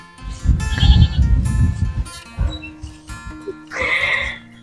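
Goats on a farm bleat repeatedly in wavering, nasal calls, several loud overlapping cries near the microphone with short pauses between them and a final strained bleat.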